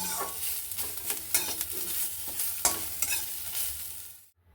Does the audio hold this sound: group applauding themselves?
no